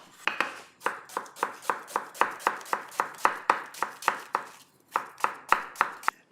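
A knife slices a peeled onion on a board in a quick, even rhythm of about twenty crisp, close cuts, with one short pause near the end.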